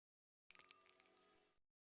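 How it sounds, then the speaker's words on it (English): A single clear bell chime rings in Ace Attorney Investigations 2, a close, bright ding that sustains briefly and fades out, with nothing else around it. "That sound, is that a bell?"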